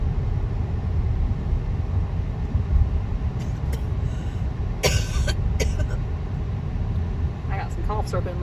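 A person coughs twice inside a moving car, short harsh bursts close by over the constant low rumble of road and engine noise.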